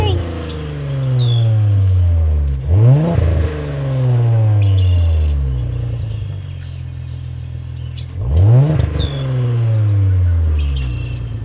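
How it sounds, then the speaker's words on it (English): An Audi B9 S4 with an ECS X-pipe exhaust revs loudly in two long sweeping runs, the pitch climbing then dropping with a crackle between pulls. "Let's get some revs, man."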